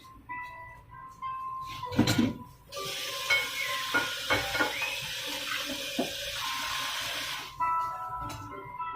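Celery is washed in a sink under running water, with steady splashing and rushing, occasional knocks and clinks from handling, close and moderately loud.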